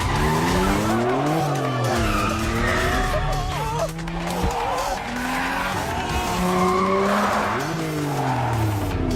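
A damaged car without working brakes drifts, its tires skidding and squealing loudly and continuously over an engine whose pitch rises and falls throughout.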